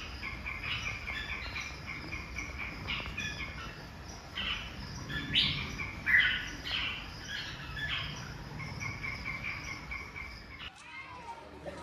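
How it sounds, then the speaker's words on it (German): Birds chirping and calling inside an aviary in a walk-in bird house, a steady chorus of high twittering calls with louder chirps near the middle, dense and continuous, ending abruptly. "Ja, und jetzt bin ich im Vogelhaus."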